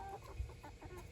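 A backyard chicken gives a few soft, low clucks, fairly faint and alone, over a steady outdoor hush.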